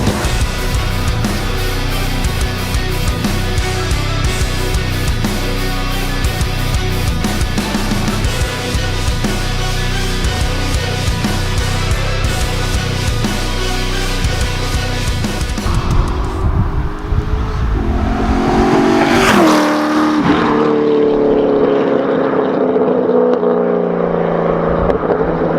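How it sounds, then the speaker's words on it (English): A cammed LS7 V8 in a 2009 Corvette C6 Z06 with ported heads, intake, exhaust and tune: a loud, choppy engine note for about sixteen seconds, then a quieter running sound with a rising rev sweep. "If you can't hear what that is, it's a cammed LS7."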